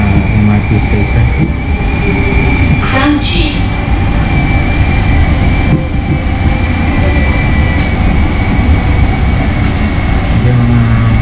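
A Singapore MRT train rumbles steadily with a constant high whine, loud and close, with faint voices in the background.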